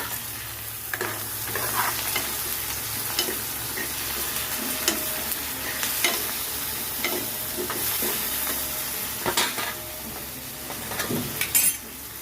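Chopped tomatoes fry in hot oil in a pan, giving a steady sizzle under irregular scraping and stirring taps from a spoon, close and continuous, with no talking.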